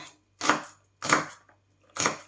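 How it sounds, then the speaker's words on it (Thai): A knife chops chili peppers on a board in three crisp, evenly spaced strokes, close and loud, with silence between each cut. "หั่นพริกรอนะคะ"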